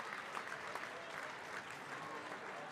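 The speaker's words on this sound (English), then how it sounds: "listen to this crowd and the ovation they give number 4" A high school girls' basketball crowd at a SoDak 16 playoff game gives a senior player a sustained ovation: dense, steady clapping and crowd noise that never lets up.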